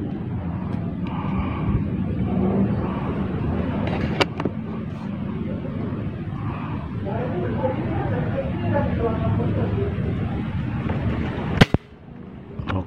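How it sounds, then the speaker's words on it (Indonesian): A Sharp D12 Classic air rifle fires local pellets, giving two sharp, loud cracks several seconds apart over a steady outdoor background hiss. "tembakan ketiga."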